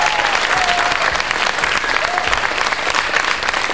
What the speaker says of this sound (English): let's have a round of applause for everybody